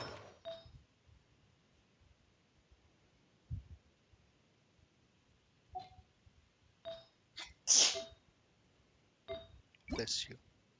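A brief sneeze from a person during a Genshin Impact play session, one sharp burst among scattered quiet voice sounds and soft clicks.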